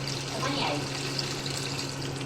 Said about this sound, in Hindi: इसमें बाद फिर आपने पानी ऐड कर देना मैगी नूडल्स के लिए।